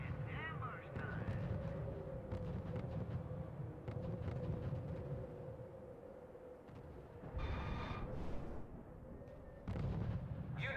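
Artillery fire in the strategy game R.U.S.E., a steady rumble of distant booms and battle noise under game voice lines and radio chatter, with a few brighter bursts partway through.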